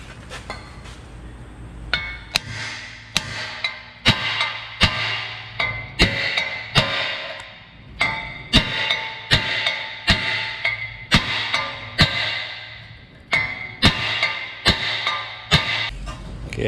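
A stuck front brake rotor on a Toyota Tacoma struck repeatedly with a hammer, sharp metallic bangs arriving in an irregular series close by, echoing with a ringing clink, no talking.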